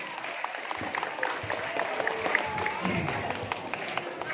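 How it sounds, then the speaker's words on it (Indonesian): Applause and crowd noise at a school quiz competition during a Muharram festival, a continuous wash of clapping from a sizeable audience with voices mixed in, heard at moderate volume. "Tepuk tangan."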